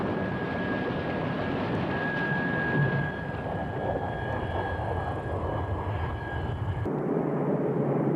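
A MiG-29 jet fighter roaring steadily on takeoff, a loud continuous engine rush with a sustained high whine over it, cutting off abruptly near the end to a lower rumble.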